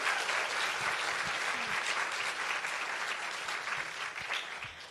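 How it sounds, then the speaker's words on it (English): A theatre audience applauds after a documentary screening, with dense, even clapping from many hands that holds steady and slowly fades toward the end. "One more round of applause for Andrew."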